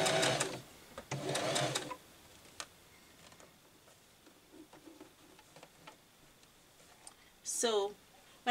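A sewing machine stitches a gathered gown sleeve in short bursts of rapid mechanical whirring, with quieter ticking pauses between runs and one brief high squeak near the end.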